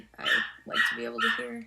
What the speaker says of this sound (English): I apologize if you can hear the puppy crying in the background